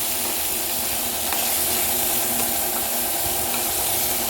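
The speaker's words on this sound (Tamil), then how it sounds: "அதையும் இதோடு சேர்த்து வதக்கிக்கலாம்" About ten peeled garlic cloves sauté in a pan with softened small onions, giving a dense, loud, continuous sizzle and hiss close by, with faint stirring scrapes and no voices.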